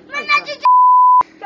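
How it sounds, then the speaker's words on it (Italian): Censorship beep over swear words: a voice speaks briefly, then a loud, steady single-tone bleep cuts in for about half a second before speech resumes. "ho dovuto mettere i bip alle bestemmie di questo video"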